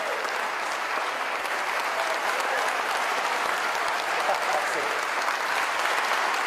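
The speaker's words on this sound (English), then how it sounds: "Everybody was clapping." Sustained applause from a group of people clapping together, dense and even for several seconds, with a brief spoken remark over it.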